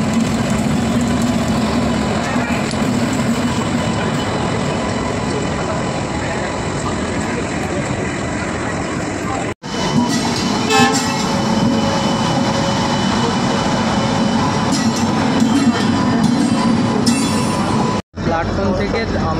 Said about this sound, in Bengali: আমরা হাওড়া থেকে আমতা লোকাল ধরে সাঁতরাগাছির উদ্দেশ্যে বেরিয়ে গেলাম